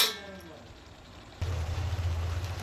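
A metal lid clanks onto a pot of mutton masala with a brief ringing tone that fades, followed by a low, steady cooking rumble from the covered pot.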